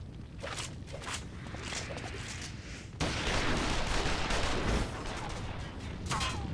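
A Final Fantasy XIV Stormblood cutscene fills with a continuous rattle of gunshots, a dense fusillade that grows louder partway through and then eases slightly.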